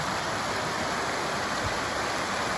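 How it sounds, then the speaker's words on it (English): Waterfall beside a hiking trail on an overcast day after rain, a dense, steady roar of rushing water close by, unbroken and even throughout. "And I get a nice waterfall."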